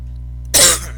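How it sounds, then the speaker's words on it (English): A single short, forceful cough bursts out of a quiet background, loud and close, then fades quickly. "excuse me, forgive me for that cough"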